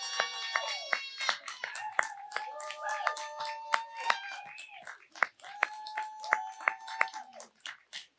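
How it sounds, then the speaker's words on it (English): Wedding guests clap in a lively round of applause for the newly married couple, sharp claps steady for several seconds, with whoops, cheers and voices mixed in at a reception. "One more round of applause."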